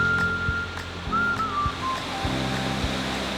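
The cascading waterfalls of Plitvice Lakes in Croatia give a steady rush of water, joined by soft low thumps and a faint gliding tone.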